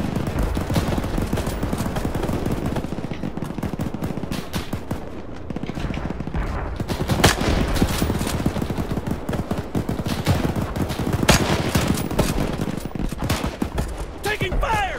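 Dense, loud gunfire in the Arma 3 video game during a Gold Beach, Operation Overlord battle: nonstop rattling bursts and overlapping shots fill the whole stretch, with heavier cracks standing out now and then.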